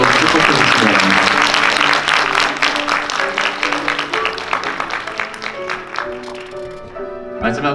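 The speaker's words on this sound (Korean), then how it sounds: "여러분 다시 한번 박수로 축복해 주시기 바랍니다" Wedding guests at a Seoul lounge venue clapping to bless the couple, loud, full applause at first that thins into scattered claps, with music playing underneath and fading out at the close.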